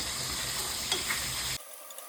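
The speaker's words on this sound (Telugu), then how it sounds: "ఇప్పుడు ఇది హై ఫ్లేమ్ పెట్టుకొని తిప్పాలి" Tomato paste frying in oil on high flame for a fish curry, a steady bright sizzle with faint stirring scrapes that cuts off abruptly after a second and a half, leaving only quiet hiss.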